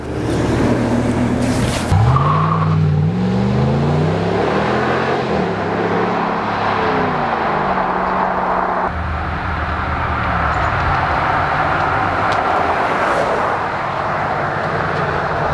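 A RAM SLT Classic Single Cab pickup truck accelerating hard, its engine note climbing through rising revs with gear changes, loud and close throughout without any talk.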